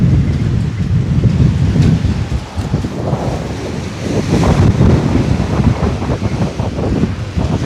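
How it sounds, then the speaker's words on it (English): Strong wind storm tearing through trees in Palmer, Alaska: loud, constant roaring gusts with heavy low rumble and microphone buffeting, swelling and easing over several seconds, no talking. "is what the wind currently sounds like out here."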